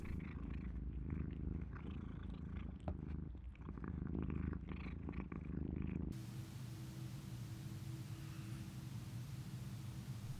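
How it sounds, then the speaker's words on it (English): A cat purring close up, a low steady rumbling purr that runs continuously, followed by quieter soft hiss. "there are a couple of cat-related noises as well"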